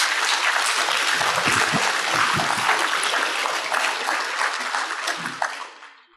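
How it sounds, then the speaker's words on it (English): Audience applause for long-standing honorees at an annual association meeting, a dense sustained wash of many hands clapping from a large crowd that fades out at the end. "let's give all of these a hand of applause"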